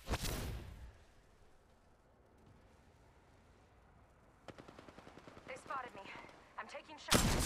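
Gunfire in the battle royale game Apex Legends: a loud blast at the start, a quiet stretch, then a rapid burst of repeated shots and a few more bangs ending in another loud blast, with brief voices mixed in.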